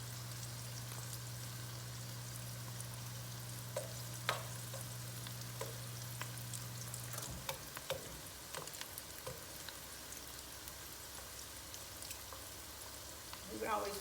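Chopped onions fry in a pan with a quiet, steady sizzle while a utensil scrapes and stirs them in scattered bursts. A low hum runs underneath for the first half, then stops.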